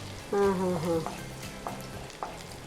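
Mustard seeds and onion sizzling in hot oil for a tempering while making kaltappa, a steady crackling fry with a few sharp pops, under a voice.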